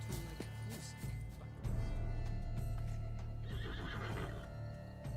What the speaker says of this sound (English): And here's the horse.